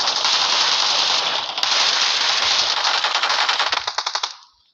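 Sustained rapid automatic gunfire in PUBG, a dense, loud burst that runs for several seconds before breaking into separate shots and stopping.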